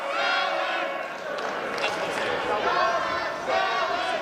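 A wrestling crowd at a live heavyweight championship event in Minneapolis roars and cheers continuously throughout, loud and dense, with shouts rising and falling.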